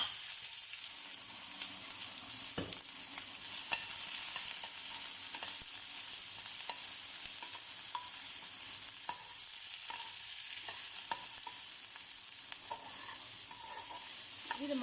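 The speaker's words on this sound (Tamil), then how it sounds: "கடுகு பொரிஞ்சதும் இதெல்லாம் அதில் போட்டுக்கலாம்" Onion, dried red chillies and curry leaves fry in popping mustard seeds, a steady bright hiss with scattered crackles and spits carrying on evenly throughout, close and with no voice over it.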